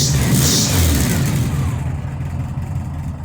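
A car engine running loudly and steadily up close, a dense low rumble with a brighter rush early on that settles into a droning hum.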